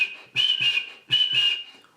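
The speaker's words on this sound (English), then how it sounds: "which is literally people whistling and people just screaming and saying those things" Two long whistles of the kind people give while cheering at a South African party, each a sustained shrill tone with a brief rise, loud and close, with a short gap between them and no talk.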